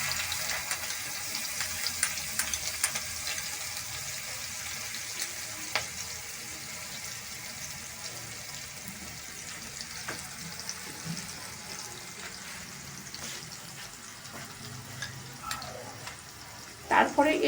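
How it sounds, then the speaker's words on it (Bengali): Chopped onion dropped into hot oil, giving a continuous close frying sizzle that swells sharply near the end, with no voice over it. "প্রথমে আমি তেলে কুচনো পেঁয়াজটা দিয়ে দেব।"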